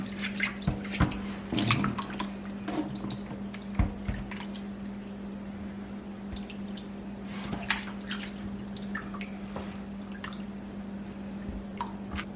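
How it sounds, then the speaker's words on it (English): Dirty water drains from rinsed beef intestines in a colander into a sink, with irregular drips and small splashes over a steady low hum, faint and close. "So I'm going to put them into a colander to let all of the dirty water drain out."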